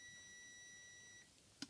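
A steady high electronic tone from a motor ESC holds for about a second, then stops, followed by one short, sharp beep. The room is otherwise quiet.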